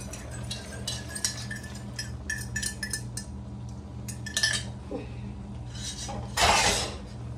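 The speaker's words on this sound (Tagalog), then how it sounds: "Haluin natin mga kababayan ito." A utensil scraping and clinking against a pot of ulam being stirred, a string of light metallic taps and scrapes, fairly faint over a steady low hum.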